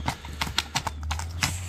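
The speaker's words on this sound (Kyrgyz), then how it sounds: "карабай эле жылкы" Karabair horse hooves clip-clopping on hard ground, several distinct close hoofbeats in an uneven walking rhythm over a low steady hum.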